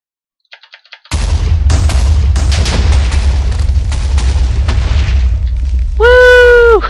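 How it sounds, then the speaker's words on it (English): A few small pops, then a loud, sustained rumbling blast of several rows of TNT exploding in a video game, lasting several seconds, followed by a warbling game sound at the end. "let us set up more TNT for a big TNT explosion"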